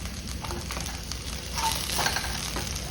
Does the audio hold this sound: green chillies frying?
yes